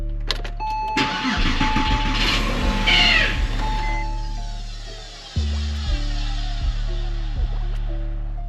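A car engine cranks with a whirring starter, catches and roars to life, then settles into a steady idle with a few mechanical clunks.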